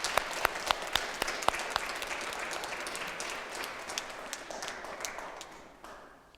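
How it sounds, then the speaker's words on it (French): Church congregation applauding children at a Sunday Mass, a broad, moderately distant wash of clapping with sharp individual claps standing out early, steady throughout and tapering off at the end. "On les applaudit, on leur dit de toujours revenir."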